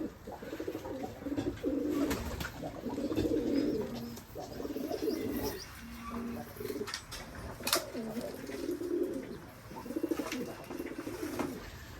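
Several Giribaz pigeons coo in overlapping, throaty murmurs, with soft rustling and occasional sharp clicks in the background.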